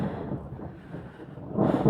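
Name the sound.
thunder and wind of a mountain rainstorm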